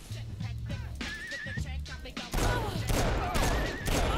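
A stun gun firing in Saints Row IV, giving a sustained crackling electric burst that grows louder and denser partway through, mixed with warbling tonal effects and game noise.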